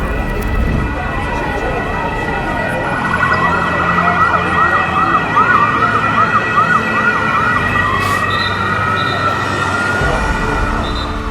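An ambulance siren wails continuously in rising and falling sweeps, loud and close over steady road traffic, with a voice faintly present beneath it.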